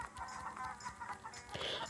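Cartoon chickens cluck repeatedly in the mobile farming game Egg Inc, a steady run of soft, close game-style clucks with a brighter squawk near the end.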